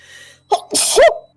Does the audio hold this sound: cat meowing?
no